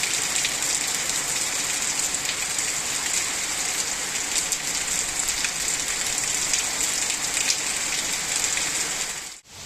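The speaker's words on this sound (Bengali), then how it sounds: "আর এদিকে ততক্ষণে শুরু হয়েছে প্রচণ্ড বৃষ্টি।" Heavy rain falling hard outside, a loud unbroken hiss of drops on surfaces that stays constant and close before cutting off abruptly at the end; no voices.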